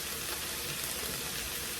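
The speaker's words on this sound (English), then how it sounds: "now you're getting that sizzle from the oil that we initially added. So now it's actually frying our ground beef" Ground beef frying in oil in a pan gives a dense, steady sizzle with constant crackling hiss at close range. The sound is uninterrupted throughout, with no talking.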